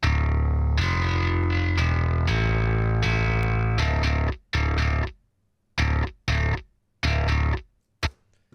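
A heavily processed, distorted bass guitar plays a thick sustained riff, then choppy staccato notes separated by short silences.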